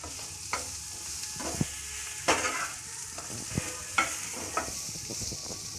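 Masala potato fry being stirred in a pan, with scraping spoon strokes at irregular intervals over a steady low sizzle of frying, close and fairly quiet, no talking.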